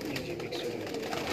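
Pigeons in a Sialkot loft coo softly in a low, continuous murmur, faint and close, with no talking over them.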